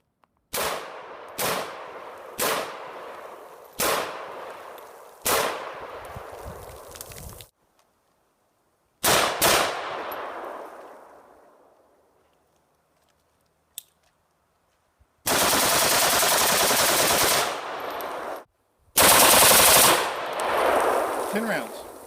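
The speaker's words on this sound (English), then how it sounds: "our friend Chris is going to continue with our test firing" An AR-15 pistol upper is test fired outdoors, with a string of loud single gunshots at an uneven pace, a long echoing tail after one shot, then two extended bursts of sustained loud noise near the end.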